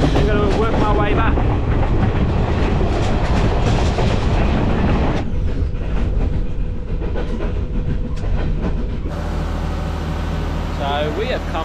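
The Kandy Express train rolls along its rails in Sri Lanka, a loud steady rumble heard from on board with clattering wheels and a shifting tone partway through, and a voice talks over it.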